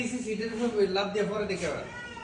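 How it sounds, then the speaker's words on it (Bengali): A cat meows in a drawn-out, wavering cry close by, one long call that tapers off. "বিড়াল উপরে উঠছে আবার?"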